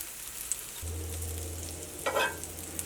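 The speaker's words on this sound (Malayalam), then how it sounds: "അപ്പോൾ ചെറിയ തീയിലിട്ടിട്ട് മൊരിയിച്ചിട്ട് എടുക്കുക." An egg and potato snack fries in oil in a pan over low heat, giving a steady close sizzle with a brief louder crackle near the end.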